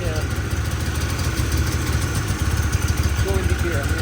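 A snowmobile engine idles in neutral outdoors, a steady low rumble with continuous vibration that holds throughout, close and moderately loud.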